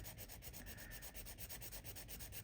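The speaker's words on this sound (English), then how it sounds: "just start sanding on this" A plastic push pin held in a small clamp is sanded with quick, regular back-and-forth rubbing strokes, a soft rhythmic scratching that repeats evenly at close range with no talking.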